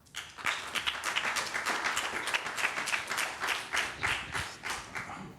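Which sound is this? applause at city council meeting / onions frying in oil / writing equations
applause at city council meeting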